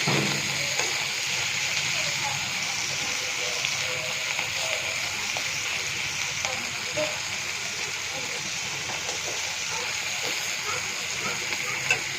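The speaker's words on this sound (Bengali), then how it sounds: "আস্তে জাল দিয়ে ভাজবেন, মাছটা ভাজা সুন্দর হবে।" Prawns frying slowly in a pan on low heat, a constant soft sizzle and hiss with faint crackles running evenly throughout, moderately close with no loud stirring.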